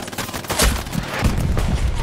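Dense machine gun fire crackles in Hell Let Loose, a World War II shooter, rapid overlapping bursts filling the whole moment, loud and close with steady battlefield rumble beneath.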